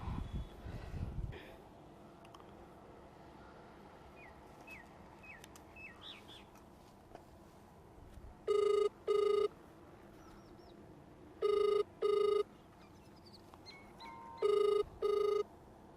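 A telephone rings three times in a quiet room, each ring a loud double burst separated by a few seconds of stillness, with faint birds chirping in the background.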